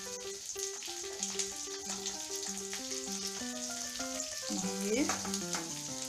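Diced onions with chopped ginger and garlic sizzle steadily in a hot pan for chicken, a continuous crackling fry with faint stirring, while music plays throughout.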